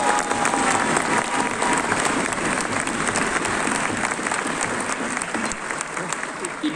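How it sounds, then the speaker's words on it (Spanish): A crowd at a political campaign speech in Quito applauds steadily for the whole stretch, dense sustained clapping with a few shouts, loud and close. "Un aplauso para los concejales de la Revolución Ciudadana."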